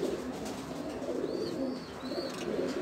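Low, soft pigeon coos from a loft of adult birds, repeated murmuring calls close by over a steady background hum, with a few thin high chirps.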